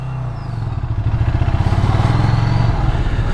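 A Ducati Scrambler's engine runs steadily while riding, a loud, close, throbbing low rumble with a rapid pulsing beat that swells slightly partway through.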